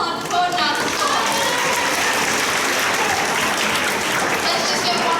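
Sustained, dense applause from an audience at a grade 9/10 spoken word poetry event, loud and steady throughout with crowd noise woven in.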